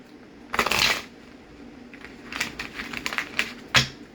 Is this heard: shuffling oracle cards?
yes